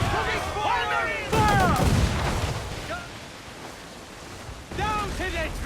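Ship cannons fire broadside in the pirate game Assassin's Creed IV Black Flag, booming in loud bursts with a sea-battle rumble underneath while crew voices shout over the volleys.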